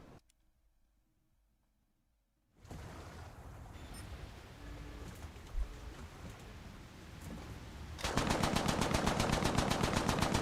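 7.7 machine guns firing in a video game, starting with a quiet gap, then a dense mid-distance rattle, then close, loud, rapid, evenly spaced bursts toward the end.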